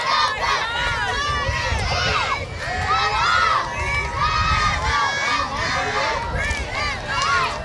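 Young girls, future high school cheerleaders marching in a community parade, shout and cheer loudly together as a crowd, with high excited voices filling the air continuously.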